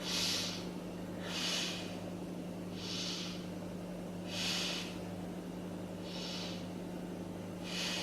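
Slow, deep breaths recur about every one and a half seconds during a beginner yoga wrist-strengthening exercise, each a soft, airy exhale heard close and alone over a quiet steady hum.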